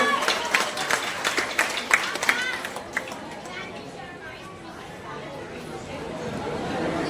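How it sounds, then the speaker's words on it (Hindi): Audience applause at a Navratri Garba festival: dense clapping for the first few seconds, then thinning into steady crowd chatter and background voices. "एक बार जोरदार तालियां आपके लिए।"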